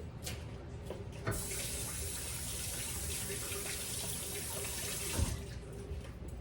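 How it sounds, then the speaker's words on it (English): Water runs steadily from a kitchen tap as hands are washed under it, a close, continuous hiss with a couple of small splashes and no talking. "let me wash my hands off again"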